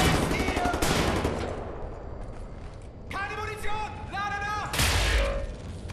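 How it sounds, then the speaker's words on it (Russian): Scoped weapon fire in the video game Wolfenstein: The New Order, with loud bursts of several shots at the start and end and metallic ringing between them; someone talks over parts of it. "С прицелом, я так понимаю, намного эффективнее. Там сразу по 3-4 выстрела летит."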